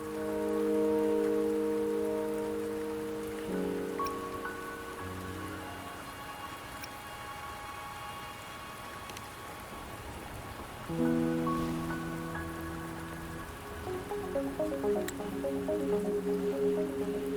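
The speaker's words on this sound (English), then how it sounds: "the rain won't last much longer" Rain falls continuously in the video game Wuthering Waves, a soft, steady patter beneath shifting melodic game music that swells and fades over the stretch.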